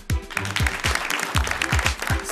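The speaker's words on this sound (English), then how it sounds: "Let's clap for them." An audience claps for game show contestants at a semi-final, a brief round of applause with distinct clustered claps, moderately close and lively, lasting only a couple of seconds.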